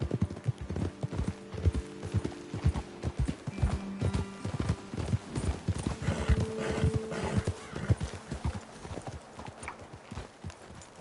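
Horses in a video game (Red Dead Redemption 2) clip-clop at a steady pace, hooves striking in a quick repeating rhythm, with an occasional whinny rising above the hoofbeats.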